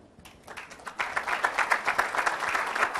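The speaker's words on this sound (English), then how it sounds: "so that we can also give you a warm round of applause" At an African World Cup qualifying play-off draw ceremony, a hall of people breaks into a warm round of applause for a delegation, the clapping swelling quickly and then holding steady.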